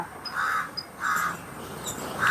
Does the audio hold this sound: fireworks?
no